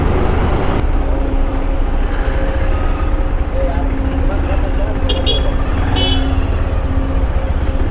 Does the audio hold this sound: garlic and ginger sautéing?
no